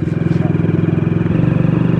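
A motorcycle engine runs close and loud on a rural road near a river crossing, throbbing in a steady rapid pulse throughout with no pauses.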